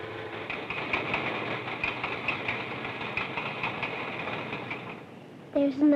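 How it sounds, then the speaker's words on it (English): A commuter train passing in an old 16mm educational film: a steady rolling rumble and rhythmic wheel clatter that holds for about five seconds, then fades as a voice begins speaking. "There's another train."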